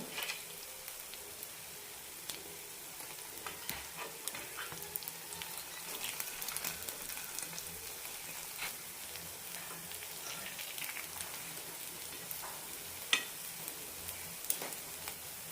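Kuzhi paniyaram batter frying under a lid in a paniyaram pan, giving a steady, soft sizzle with faint crackles and light pops throughout, close and without any talk.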